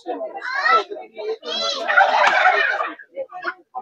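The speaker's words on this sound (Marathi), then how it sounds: "हा गिनी फॉल आहे." Guinea fowl on a poultry farm give loud, harsh, repeated calls at close range in several bursts, with brief gaps between them.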